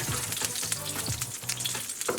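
Beef fillet roast for a Chateaubriand sears in a cocotte, producing a dense steady sizzle and crackle of hot fat, close and continuous with faint stirring clatter underneath.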